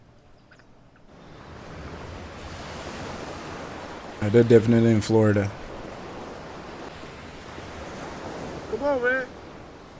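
Ocean surf off a Florida beach rolling in as a steady windy roar, with a voice breaking in briefly twice over the waves.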